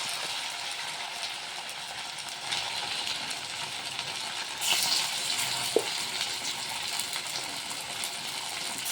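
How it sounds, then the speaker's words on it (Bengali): Sago pakoras fry in sunflower oil on high flame, giving a steady, close hiss of bubbling oil with a soft clink partway through and no talking. "এটাকে এই সাবুর পকোড়াটা একদম হাই ফ্লেমে ভেজে নিতে হবে"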